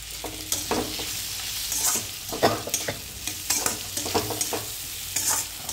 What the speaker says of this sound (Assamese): এতিয়া এইখিনি ভাজা হোৱালৈকে লাৰি থাকিম।